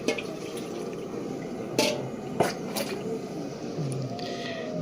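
Water pours into a pot of chicken curry with Kokani wet-coconut paste, heard as a soft continuous liquid trickle with a few clinks of the vessel, faint against room ambience.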